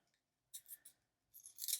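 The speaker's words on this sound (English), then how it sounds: "I'm also going to use my blender pencil for this, but I'm going to sharpen it" A blender pencil is turned in a sharpener, making two short, quiet bursts of dry scraping and grinding separated by a brief pause.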